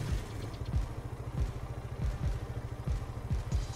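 A go-kart engine, the Lizard Cross in Farming Simulator 22, runs at idle with a steady, rapid low putter of firing pulses. It is loud and continuous throughout, with no voice.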